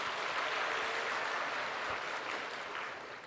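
Congregation clapping during a Sunday church service, a dense steady wash of hands filling the room and tapering slightly toward the end, with no voices over it.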